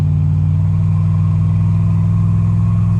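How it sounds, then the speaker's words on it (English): The engine of a 2000 Ram 1500 pickup with a 4.56 gear swap pulls under throttle on a highway, a loud, steady low drone that holds constant without pause. "Let me give it a little bit more throttle."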